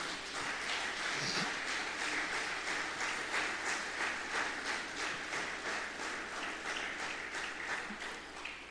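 A church congregation applauding, continuous dense clapping from many hands that holds steady for several seconds, fairly close and with no voices over it.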